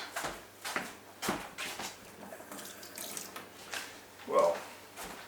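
A tap runs steadily at a kitchen sink during washing up, with bursts of splashing and clinks of utensils, and a voice briefly murmurs near the end.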